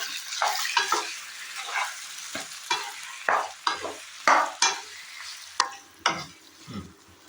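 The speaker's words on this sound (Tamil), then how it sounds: "கொஞ்சம் போல் உப்பு போட்டுட்டு எல்லாத்தையும் நல்லா கலந்து" Pieces of raw chicken with salt are stirred and tossed in a pan for a South Indian Pallipalayam chicken dish, giving close, wet scraping and squelching strokes at an irregular, unhurried rhythm with no voices.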